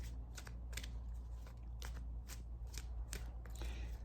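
Tarot cards riffled and shuffled by hand in a quick run of short, crisp bursts that repeat through the clip, close and fairly quiet over a low steady hum.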